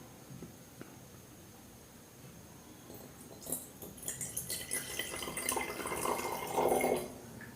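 Water is poured from a measuring jar into containers of different shapes, starting with faint drips and building into louder, close splashing and trickling in the second half, with no talking.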